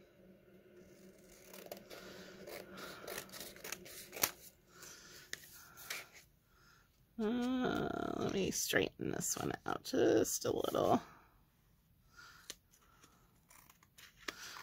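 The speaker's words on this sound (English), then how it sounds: "so I'm using these crappy scissors" Cheap, low-quality scissors snipping paper at a crafting table, several short crisp cuts and rustles mixed with handling noise, alongside and between a person talking.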